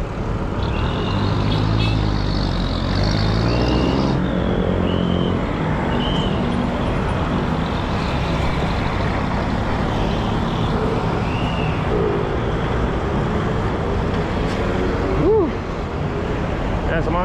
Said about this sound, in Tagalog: Grabe traffic oh.